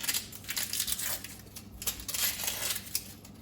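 A knife cuts through a yellow onion, crisp crunching and scraping of the papery skin and layers on a board, fairly soft and close, with no talk.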